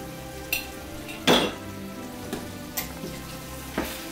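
Onions fry in oil with a continuous sizzle while red paprika is stirred in, a spoon scraping and clinking against the pan in several sharp strokes, one louder knock early on.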